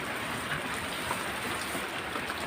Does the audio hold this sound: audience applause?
no